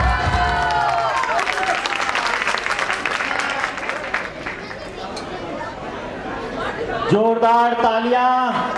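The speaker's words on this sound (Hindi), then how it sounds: "जोरदार तालियां" Guests at a 25th wedding anniversary party break into loud applause mixed with crowd chatter and a voice over a microphone, then the clapping gives way to a louder amplified voice near the end.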